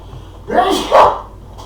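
One loud, close human sneeze, a sharp breathy burst in two quick parts with a little voice in it, alone against a quiet background during a street soccer video game session.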